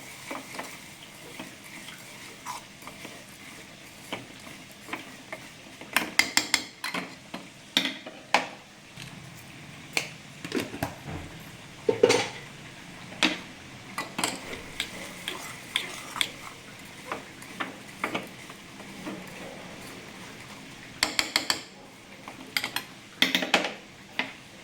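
Jaggery melting in a pan is stirred with a utensil, giving irregular metallic scrapes and clinks against the pan over a quiet background, some strokes sharper and louder, spread throughout.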